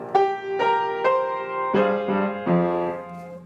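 Piano picks out the leading melody of a song: six distinct notes, the early ones quick and higher, the later ones lower and more ringing, played close and alone without speech.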